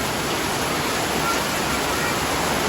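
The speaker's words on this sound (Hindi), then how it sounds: "मैं बाहर आके देखी तो यहाँ पे घमासान बारिश हो रही थी" Heavy downpour outside a village home in Goa, a dense, steady roar of rain that fills the whole clip at close range with no break or other sound over it.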